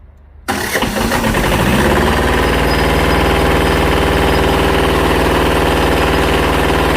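A 16-horsepower tractor engine cranks and catches after half a second of quiet, then settles into a loud, steady, close running chug.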